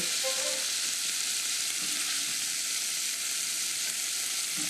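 Chopped prawns fry in olive oil with garlic and coriander for a prawn açorda, giving a dense, even hiss of sizzling that holds steady throughout with no talk.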